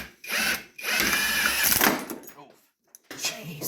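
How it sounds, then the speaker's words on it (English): An impact gun hammers at a BMW E46 front control arm bushing, loud and close, in two long rattling bursts, a short stutter and near-silence, then a final burst. "The impact gun kind of went crazy on me there"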